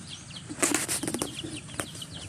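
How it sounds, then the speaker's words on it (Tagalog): Backyard chickens raised for tinola on a provincial farm flap their wings in a short flurry, followed by a brief second flutter, heard at moderate distance without talk. "Pang tinulang manok"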